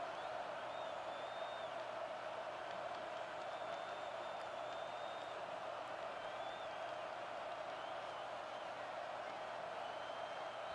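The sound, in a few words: stadium crowd cheering in EA College Football 25 video game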